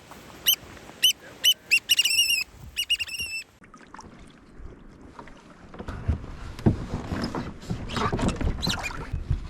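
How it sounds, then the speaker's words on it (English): A bird calls from near the water in Alaska's Blackstone Bay, a run of sharp, harmonic honking notes in the first few seconds, then kayak paddling and water splashing take over close by. "There's that bird again."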